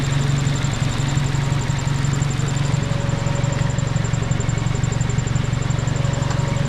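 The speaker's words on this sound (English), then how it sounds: "This turbo is hating life right now." A budget turbocharged 8th-generation Honda Civic engine runs on a dyno with a steady, loud, unchanging drone and a constant high whine throughout.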